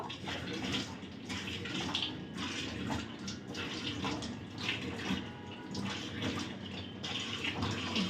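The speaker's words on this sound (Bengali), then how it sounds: "তো চলো মুখটা ধুয়ে নিই। আগে মুখটা ভেজাবো" Water splashing and running as a face is wetted and washed at a sink, a steady close wash of trickling and splashing with no talk.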